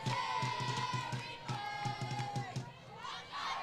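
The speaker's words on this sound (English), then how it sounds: "Listen to the crowd. They're into it." Crowd at a high school girls' softball game cheering and shouting, loud rhythmic chanting with claps and high-pitched yells, sustained throughout with voices layered on top.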